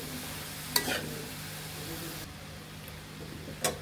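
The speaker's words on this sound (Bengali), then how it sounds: "এখন আমরা সবজিগুলো ভালোভাবে কষিয়ে নিতে হবে" Vegetables sautéing in a pan with turmeric for a ginger khichuri made without onion or garlic. The sizzle stays low and steady, broken by two sharp scrapes of a spoon against the pan.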